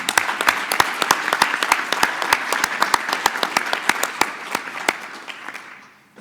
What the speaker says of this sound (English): let's give all of them a round of applause, please.